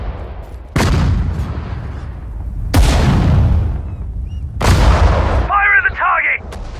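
Artillery fire in the Sudden Strike 4 desert war battle: three heavy booming shots a couple of seconds apart, each rolling off in a long rumble, with a brief voice line after the last.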